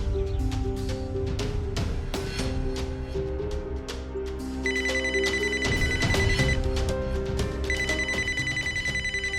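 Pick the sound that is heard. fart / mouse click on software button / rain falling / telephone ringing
telephone ringing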